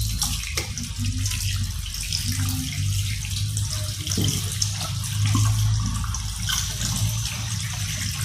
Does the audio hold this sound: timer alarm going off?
no